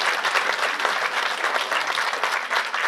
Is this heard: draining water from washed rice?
no